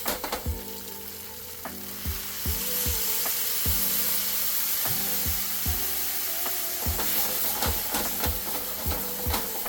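Tofu sizzles and fries in a pan with soy sauce, a steady loud hiss broken by repeated scraping and knocking of a utensil stirring against the pan.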